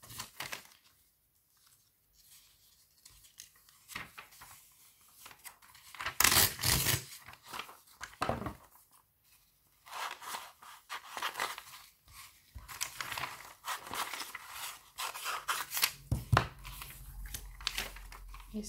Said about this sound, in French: je ne m'applique pas quand je coupe